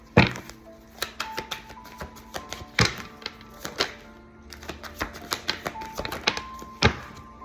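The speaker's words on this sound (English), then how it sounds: "Let me get one more card." Tarot cards being drawn and laid out from a deck, giving a run of soft taps, slaps and shuffling thumps at irregular intervals, close and fairly quiet, with no talking.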